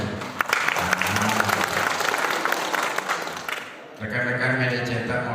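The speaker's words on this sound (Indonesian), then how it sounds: "Apa tepuk tangan tidak ada kuat?" An audience at a PWI Ogan Ilir press-day gathering breaks into loud, dense applause that fills the hall for about four seconds, then fades as a voice speaks over the last scattered claps.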